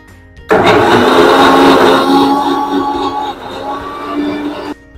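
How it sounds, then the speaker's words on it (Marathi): Mixer grinder blending kokam for sol kadi, a loud motor whir that starts abruptly, runs steadily for about four seconds with a slight drop in pitch, then cuts off. "ह्याला परत आपण लावायचं मिक्सरला"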